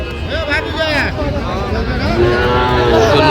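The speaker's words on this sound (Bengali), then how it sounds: "সুন্দর বাচ্চা, ষাঁড় বাচ্চা।" At the busy Ambari cattle market, a young bull calf moos close by with drawn-out, low calls, surrounded by people talking and general crowd chatter.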